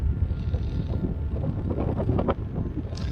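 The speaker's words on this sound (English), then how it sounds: "you can see it blowing my jacket, but you can't see the wind." Wind gusts across a coastline in a steady, heavy rumble, buffeting the microphone and flapping a jacket nearby, with no voices.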